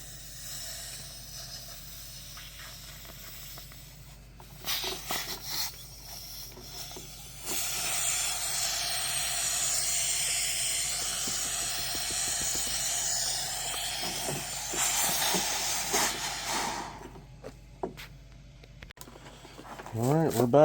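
A vacuum draws water out of a residential water heater tank through the element port, giving a long rushing hiss that starts in bursts and then becomes a sustained loud stream before cutting off, with some speech nearby.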